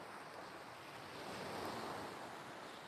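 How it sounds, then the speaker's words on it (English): Steady broadband wash of ocean waves breaking on the shore at Puerto Pollensa, Mallorca, in winter, with light wind noise over the microphone. The surf swells slightly louder midway through. "Look, actually the waves have picked up a little bit."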